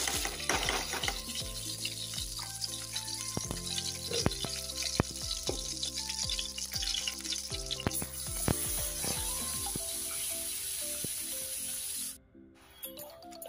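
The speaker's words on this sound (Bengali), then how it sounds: "একটু ভালো করে যে ভেজে নিছি" A paste sizzling as it fries in ghee in a pan, a continuous hiss broken by stirring scrapes and clinks, with a brief drop in level near the end.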